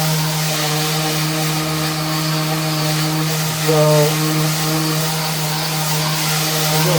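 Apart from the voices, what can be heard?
sander sanding paint off a CNC photo carve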